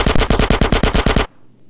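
Rapid automatic gunfire in GTA San Andreas: a loud, close burst of about a dozen evenly spaced shots that stops abruptly and leaves a faint low hum.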